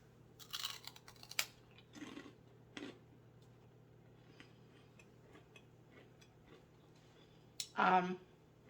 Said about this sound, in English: helps put a crunch back in the apple.